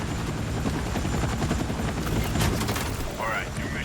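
A helicopter in the video game Battlefield Redsec: a steady loud rotor and engine drone fills the whole stretch, with gunfire-like bursts mixed in and a voice talking over it.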